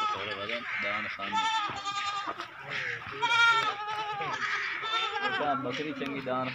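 Goats bleating on a livestock farm, several overlapping nasal bleats in steady succession close by, with voices talking underneath throughout.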